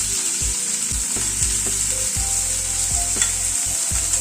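Chopped onion frying in a pan on a low flame, a loud continuous sizzle with regular clunks of stirring against the pan, no talking.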